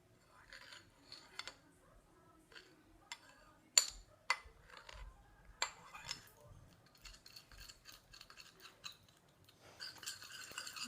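A teaspoon stirs a homemade organic fake-blood mixture in a small container, giving quiet irregular clinks and scrapes with short pauses between them.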